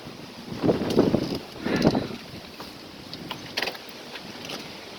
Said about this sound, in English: it's warm outside, but it is windy